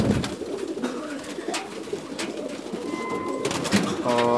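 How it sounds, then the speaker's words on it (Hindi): Fulsara breed pigeon cooing softly amid a busy outdoor background of voices and chatter, with a few faint bird calls near the end; the coos are low and partly masked by the surrounding talk. "फुलसरा बहुत अच्छी नस्ल है कबूतर।"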